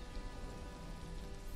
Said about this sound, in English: Rain is dying down.